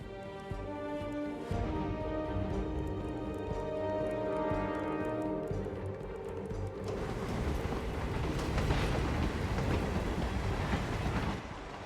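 Train rolling on rails in the video game Hitman 3, a steady rumbling clatter with rhythmic clicks that swells louder in the second half, continuous throughout with no talking.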